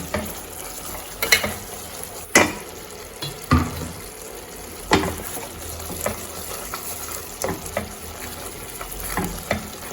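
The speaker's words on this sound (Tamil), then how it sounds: "நல்லா கொதிச்சிருச்சுங்க" A pot of tamarind sauce for puliyodharai bubbling and sizzling at a low simmer, soft steady burbling with occasional sharper pops and clinks of a utensil.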